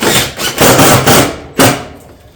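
Hammer blows while fastening barrel vault roof panels, about four or five loud close strikes in an irregular rhythm, each ringing briefly before fading.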